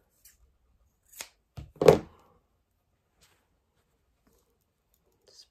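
A few quiet, crisp snips of scissors cutting an inch of yellow wool for needle felting, three short cuts clustered together and then silence.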